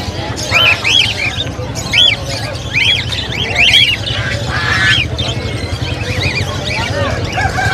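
Geese at a pet market give repeated loud, nasal honks in short bursts, mixed with background market noise and people talking nearby.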